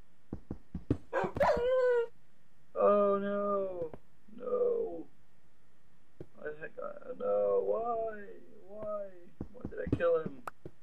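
A pet dog in the Minecraft video game gives several high whimpers and yelps in short bursts, with clicky game sounds in between and no talking over it.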